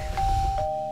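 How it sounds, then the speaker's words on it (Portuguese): A Minecraft doorbell gives a short two-tone chime, a bright ding followed quickly by a second note, heard over faint game ambience. "campainha aqui, uau"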